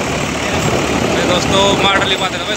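A 2013 Indofarm 3055 NV tractor drives a Shaktimaan rotavator in a field, giving a loud, steady engine drone that runs without a break while someone talks over it.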